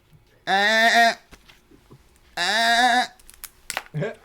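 A giant goat in a tabletop role-playing session lets out two long, loud, nasal bleats separated by a quiet pause, followed by a few softer clicks and a short vocal sound; the bleats may be a voice imitating the animal.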